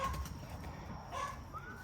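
Pigeons or doves cooing softly as they are pushed into a loft, a low murmuring coo running through a short stretch with faint rustling and no clear talk.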